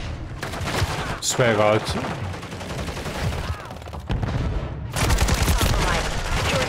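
Rapid bursts of gunfire in the video game Call of Duty MW3 on the Stash House map, dense and loud, with a short pause and then a heavier volley near the end, while someone talks over it.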